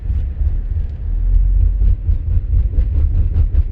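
Tires of a 2011 Honda Accord 2.4 manual petrol sedan roll over road rumble strips, giving a loud, steady low drumming with rapid rhythmic pulses throughout.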